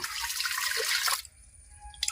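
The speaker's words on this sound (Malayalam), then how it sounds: "ഇതിന് വേവാനുള്ള വെള്ളവും കൂടെ നമ്മൾ ഒഴിക്കുന്നുണ്ട്." Water pours in a steady rushing stream into a pressure cooker for about a second, then cuts off, leaving a quiet room with a faint clink at the end.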